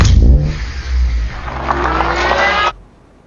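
Car engine from a movie scene, revving loudly in a steady drone with a faint rising whine, then cutting off abruptly near the end, leaving near silence.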